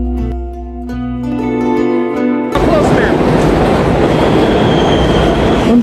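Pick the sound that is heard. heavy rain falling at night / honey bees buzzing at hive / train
train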